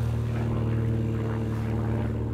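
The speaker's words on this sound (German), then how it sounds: "das Flugzeug ist auf jeden Fall deutlich lauter" An airplane flying overhead produces a steady, droning engine hum with strong low tonal bands, loud and constant throughout without any talking.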